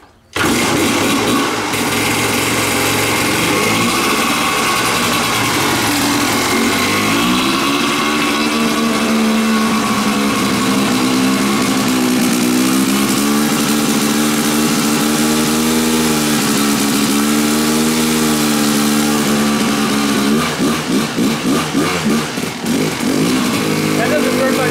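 A small engine fitted with a swapped carburetor runs loud and close, a steady buzzing drone that wavers in pitch as the throttle rises and falls, continuing unbroken throughout.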